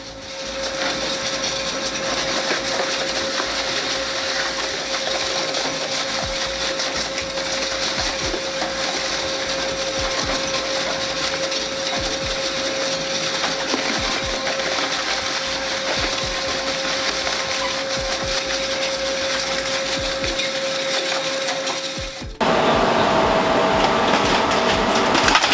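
Industrial tire shredding machine running, a steady loud mechanical roar with a constant tonal hum and dense grinding texture, continuous throughout and shifting abruptly near the end.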